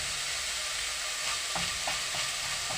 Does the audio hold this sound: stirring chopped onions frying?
yes